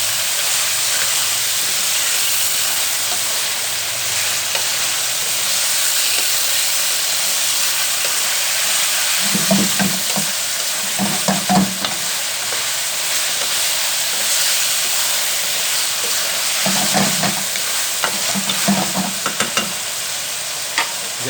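Chicken sizzles and fries in hot ghee and oil in a kadhai, a steady loud hiss with a few bursts of spatula stirring scraping against the pan.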